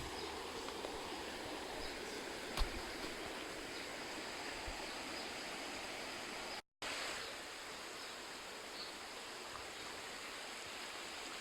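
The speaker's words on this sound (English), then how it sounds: "And then we went for a little adventure down by the river." A river flows in a steady, broad rushing hiss near a camping spot, constant and even, with a faint click partway through and a momentary gap.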